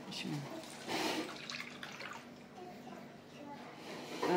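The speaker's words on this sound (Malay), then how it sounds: "Tuangkan air biasa 1 tin lagi" Plain water poured into a tin while making corn coconut-milk pudding, a few short splashing gurgles in bursts, with someone speaking quietly over it.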